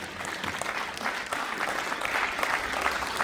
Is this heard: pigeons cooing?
no